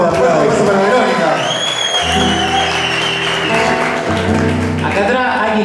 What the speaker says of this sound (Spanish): Vamos, fuerte aplauso para Verónica